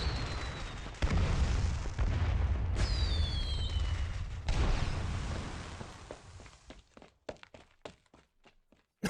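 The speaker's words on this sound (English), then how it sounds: "Oh, it's just a big-ass firecracker." A big firecracker goes off with a loud, sudden blast, followed by several seconds of rumbling debris and then a run of sharp, scattered cracks and pops that thin out toward the end.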